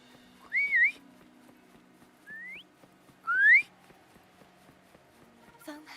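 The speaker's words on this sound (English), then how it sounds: "Try whistling." A game character whistles in Wuthering Waves: a short rising-falling warble, then two upward-sliding whistles, clear and close with quiet game ambience and soft footsteps underneath.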